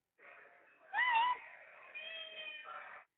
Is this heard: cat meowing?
yes